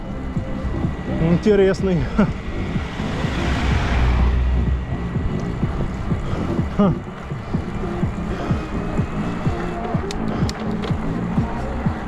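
A motorcycle engine rumbles past on a road in Yalta, loud and close at first, then fading. Someone talks over it.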